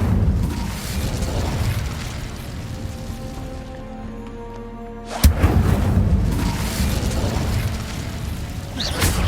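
Incendio fire spell in Hogwarts Legacy bursts with a sudden loud whoosh-boom after a quieter stretch of low ambience, followed by a sustained roaring rumble of flame and combat noise.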